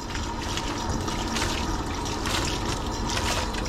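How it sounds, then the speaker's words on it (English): Water rinsing the coat of a severely underweight husky during grooming, a steady close hiss of running, splashing water with no pauses. "going to rinse"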